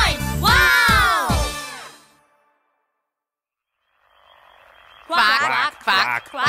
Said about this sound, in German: Es springen 9 Frösche hoch, quack, quack.